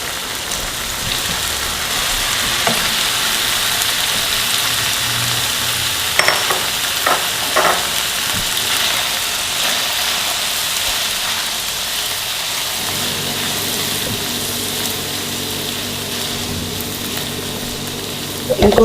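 Leftover boiled rice frying in a pan, a steady sizzle with stirring scrapes and a few sharper clinks midway, a faint low hum joining in later, no talk.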